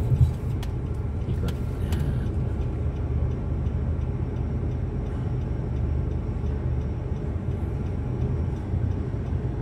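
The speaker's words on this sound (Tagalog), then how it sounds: "Pakiramdaman mo muna yung takbo na sasakyan." A car drives along during a driving lesson, its interior rumble steady and fairly loud throughout, with a few faint clicks early on and no talking.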